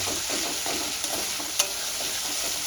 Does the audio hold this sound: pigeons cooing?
no